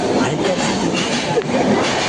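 Steady rumble and rattle of a moving train, continuous and fairly loud, with a faint voice briefly underneath.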